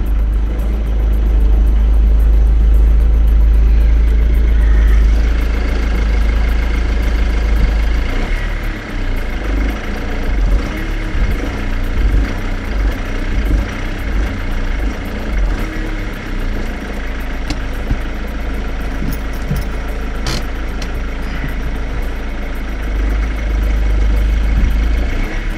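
A Ford Mondeo car engine with a handbrake issue runs at a loud, steady idle close by, a low rumbling drone persisting throughout without talking.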